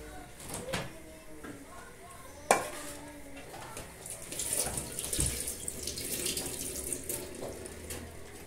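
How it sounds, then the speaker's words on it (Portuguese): Water is poured into a pot of meat and vegetable soup, a running, splashing gush that builds toward the end, with clinks of a pot and people talking quietly in a home kitchen. "Agora eu vou colocar a água."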